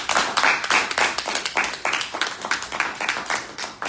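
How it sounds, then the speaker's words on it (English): A seminar audience claps for themselves at the close of a planning talk, a dense run of quick, uneven handclaps that comes through near and steady, with no voices over it. "You can clap for yourself."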